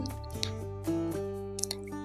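Water trickling and dripping into a floor drain in a newly organized house, soft wet drips and splashes over a steady low hum, fairly quiet and close.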